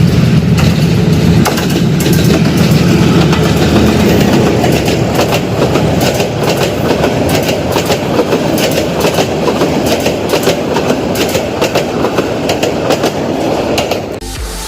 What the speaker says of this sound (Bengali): এটা সম্ভবত আপনার লোকাল ট্রেন দেওয়ানগঞ্জ থেকে আগে আসতেছে। চলুন আমরা ট্রেনটাকে একটু উপভোগ করি